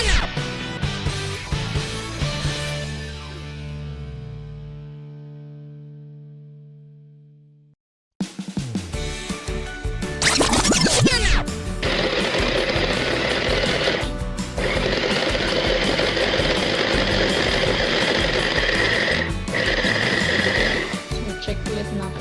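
Oreo cookies whirring in a kitchen blender for Oreo truffles: a steady loud motor roar that stops, then starts again with a high grinding whine and a few brief dips in pitch, no talk.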